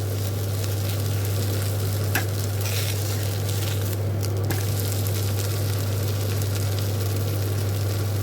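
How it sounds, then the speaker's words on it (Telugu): An attu (dosa) shallow-frying in a pan, a steady sizzle beneath a constant low hum, with a couple of brief clicks. "2 వైపులా చక్కగా గోల్డెన్ బ్రౌన్ కలర్ వచ్చేదాకా వేయించుకోండి"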